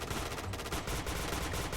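Rapid bursts of video game gunfire crackle continuously, dense and loud, filling the whole moment without pause or voices.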